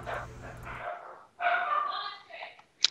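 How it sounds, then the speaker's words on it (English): A dog barks excitedly in another room, giving a few muffled, distant barks and yips mixed with some voice sounds. "Dog's going bananas in there."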